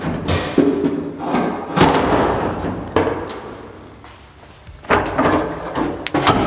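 A steering column is pulled out of a 1978 Ford F-150 truck cab, with loud close thuds, knocks and scraping of metal and wood-like parts in irregular bursts.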